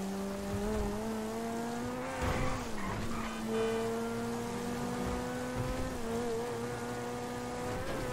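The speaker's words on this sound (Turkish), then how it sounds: "Sesi çok güzel arabanın." A car engine in Grand Theft Auto V Online hums at a steady drone, its pitch dipping briefly and then holding level. It is fairly quiet and heard alone, with no talk.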